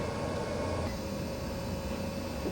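A model train sets off along a home layout, producing a steady, close, continuous mechanical rumble and hum that holds even throughout, with no voices.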